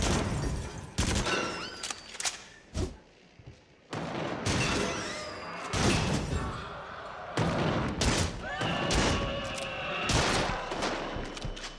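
Guns in the Fracked VR video game on PS5 PSVR fire in loud, close bursts of rapid shots and volleys, broken by short pauses, with ringing echoes and shell clatter between them.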